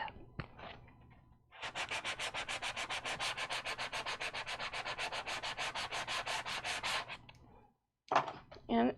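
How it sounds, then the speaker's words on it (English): Steady rhythmic scraping of sandpaper rubbing back and forth on wood, close up and loud, running continuously for several seconds with brief pauses at the start and end. "I think I might do a little more sanding down here before I call it good."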